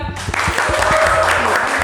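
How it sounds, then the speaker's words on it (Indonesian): Audience applause breaking out at a student talk show, a few sharp opening claps swelling into loud steady clapping from the crowd that carries to the end. "Boleh tepuk tangan?"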